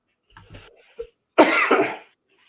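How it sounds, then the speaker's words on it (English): A few small throaty sounds, then one loud, raspy cough up close, followed by silence. "Coughing."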